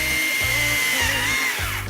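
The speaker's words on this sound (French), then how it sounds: "c'est la tronçonneuse qui fait le travail" A chainsaw cutting palm fronds in a garden, its engine whining loudly and steadily with pulsing revving cycles, close and continuous without pause.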